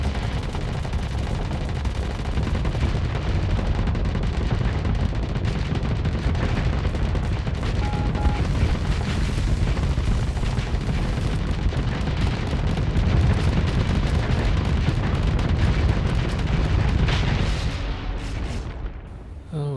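Rockets slamming into a ship in the space combat game Starsector, 0.95 Nexerelin, make a dense, continuous roar of blasts and booms that stays loud and busy throughout before tapering off at the end.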